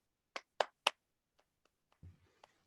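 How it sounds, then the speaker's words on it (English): Three sharp, evenly spaced hand claps ring out close by, followed by a few faint taps and a brief murmur of talk. "Hold your hands up like this. Oh. Okay, so clap in time with me."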